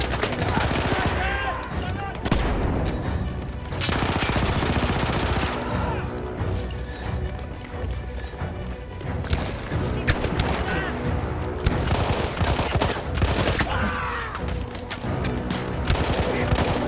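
Rapid machine gun fire in Battlefield 1, with heavy recoil, bursts of shots repeating throughout in a loud, dense battle mix alongside other gunfire and explosions, with speech also present.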